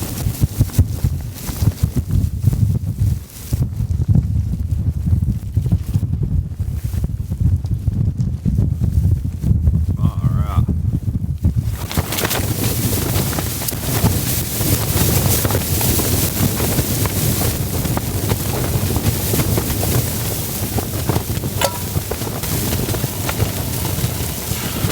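Blizzard wind batters a winter camping tent, a loud, continuous roar of gusts and fabric buffeting that grows rougher and brighter halfway through, with no voices.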